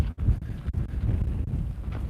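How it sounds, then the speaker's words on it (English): Wind buffets an outdoor microphone in a steady low rumble with gusting swells and brief dropouts, loud and continuous with no talk. "Yeah, I tell you, it's windy"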